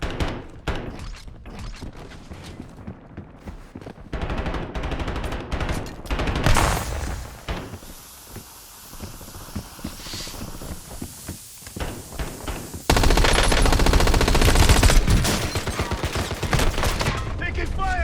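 Rapid bursts of automatic gunfire and scattered shots crackle through a Warzone solos match, with thuds and footsteps between volleys and a loud, sustained fusillade near the end.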